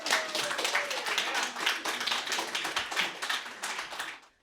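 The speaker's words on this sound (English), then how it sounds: "Everybody clap for Erin Thomas." An audience claps for a poet about to take the stage at a reading, a fairly close patter of individual claps that stays steady and then cuts off abruptly near the end.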